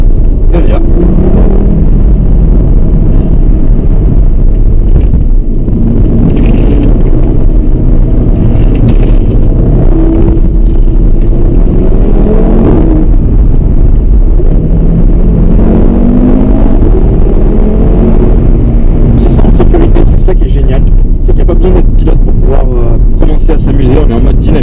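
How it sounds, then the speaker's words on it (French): An Audi RS3 in dynamic mode accelerating hard under manual paddle shifts, its engine note climbing in repeated rising sweeps broken by gear changes, with loud, close exhaust pops and crackles clustered near the end over a constant road and wind rumble. "Cette pétouille quand on passe les rapports, voilà, c'est trop bien."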